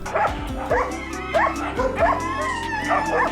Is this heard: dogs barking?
yes